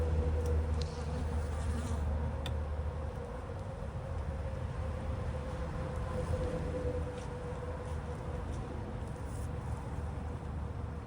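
Honeybees at an open hive during a mite wash and frame inspection drone in a steady, dense buzz that stays close and fairly loud throughout, with a low hum underneath and occasional faint clicks of handling.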